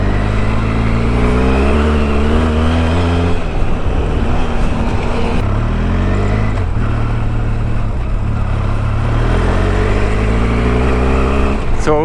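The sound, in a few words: Benelli TRK502X motorcycle riding offroad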